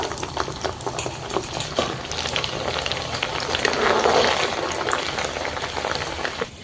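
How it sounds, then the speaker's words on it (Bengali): Chana dal fries in hot white oil in a wok, a dense bubbling crackle with sharp spitting pops that swells louder midway and carries on alone. "তেলটা গরম হওয়ার পর কিছুটা ডাল দিয়ে দিচ্ছি ভেজে নেওয়ার জন্য"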